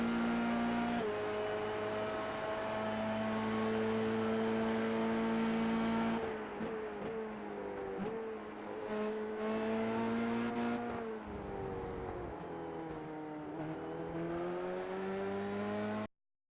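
Dallara F3 race car engine in the iRacing sim at Silverstone, a steady high-pitched drone through sixth gear with brief lifts and gear changes, then pulling again, loud and continuous with no voices.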